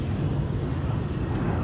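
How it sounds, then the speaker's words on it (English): A Sun Country airliner taxiing along a taxiway at Minneapolis–St. Paul airport gives a steady, low engine rumble with windy background noise, constant and fairly loud across the whole short stretch. "this Sun Country arrival is currently on taxiway Mike"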